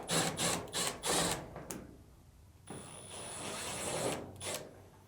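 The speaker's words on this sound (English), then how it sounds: "we need access to the back of the dryer to remove the two Phillips screws" Phillips screws coming out of the back of a Samsung dryer, heard as quick bursts of whirring from a powered screwdriver, then a pause and a longer grinding spin followed by more short whirs, close and fairly quiet.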